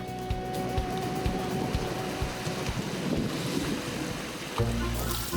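High ocean waves roll and crash along a rocky coast where haenyo divers gather sea urchins in Jeju, a dense continuous roar of surf and spray filling the air.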